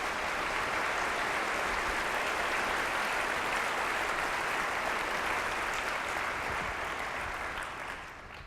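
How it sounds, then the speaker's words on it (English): Steady, dense applause from a large audience at a school district State of the District event fills the room, holding evenly before easing off at the end. "Let's give them a round of applause while they come to the stage"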